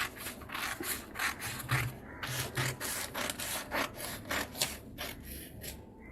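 Scissors snip through blouse fabric in a steady run of crisp, close cutting strokes, each a short rasping slice, repeated rhythmically with no talking.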